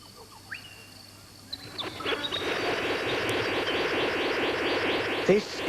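A blue bird of paradise gives a buzzing, synthesizer-like call, a rapid run of pulsed electronic-sounding notes that grows louder and holds steady, heard fairly close in a forest.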